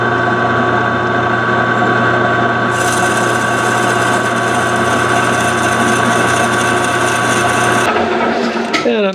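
A metal lathe running with a steady motor hum and whine while a drill bores a hole in a wood turning project, loud and close, the cutting noise rising partway through and stopping near the end.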